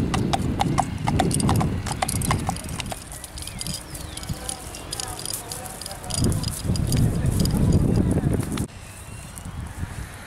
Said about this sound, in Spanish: va tranquilo y relajado por el asfalto